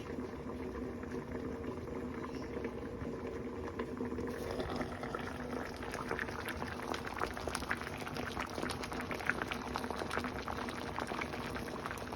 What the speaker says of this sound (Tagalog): Yan, kulong-kulo na ang ating ginataang yellow bean.